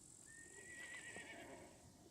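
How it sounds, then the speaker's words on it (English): A horse in the video game SCUM gives one clear, drawn-out whinny over a quiet hiss of background ambience. "That's a horse"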